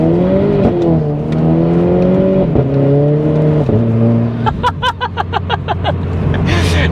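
A 240bhp Renault Clio RS engine pulls hard up through the gears, its rising drone dropping at each shift. A rapid burbling crackle follows as the throttle lifts.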